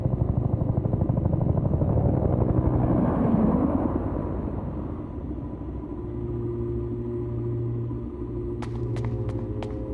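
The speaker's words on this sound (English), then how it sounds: "Is that the evac chopper?" An evacuation helicopter in the Peridium game thrums loudly with a deep rotor beat that fades after a few seconds into a lower steady rumble and whine, alone without voices.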